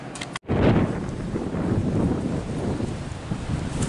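Steady cold wind buffets the microphone with a low, rumbling roar, broken by a brief dropout near the start.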